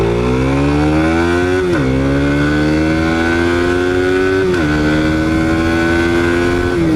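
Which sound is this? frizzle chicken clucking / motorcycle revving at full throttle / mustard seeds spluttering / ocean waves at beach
motorcycle revving at full throttle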